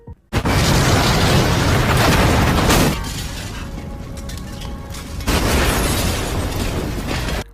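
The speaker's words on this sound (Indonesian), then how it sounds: "terdengarlah bunyi ledakan boom" A loud, sudden explosion effect from a Korean drama bursts into a long roaring, shattering rumble, dips briefly, then surges again with a second heavy wave of debris-like noise.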